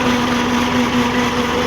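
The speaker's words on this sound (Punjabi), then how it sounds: "ਟਰੈਕਟਰ ਦਾ ਸਾਊਂਡ ਚੈੱਕ ਕਰਾਉਂਦੇ ਆ, ਕਿੰਨੀ ਕੁ ਰੇਸ ਤੇ ਚੱਲ ਰਿਹਾ ਵਾ" A 28-12 tractor engine runs at steady revs during a sound check, a constant close mechanical drone with a firm tonal hum and no speech.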